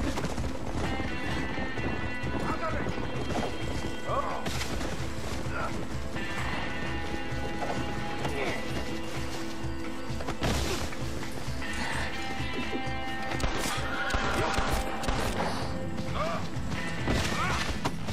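A horse in a Red Dead Redemption western game clip-clops at a steady pace with occasional neighs and creaking tack, mixed with game sound effects and music.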